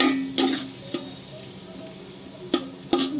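A spatula stirs chopped onions for vegetable fried rice in a pan, with a few sharp scraping ticks against the metal over a steady sizzle of frying.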